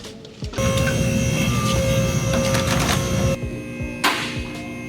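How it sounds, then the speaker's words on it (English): A 3D printer prints a template for cutting a B58TU high-pressure fuel pump, giving a close, steady mechanical hum with a constant tone and faint whirring that stops abruptly, followed by quieter room noise and a brief knock. "So we're 3D printing the template to cut the B58TU high pressure fuel pump."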